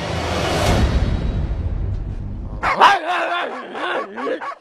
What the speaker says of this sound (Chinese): 这狗逢人便叫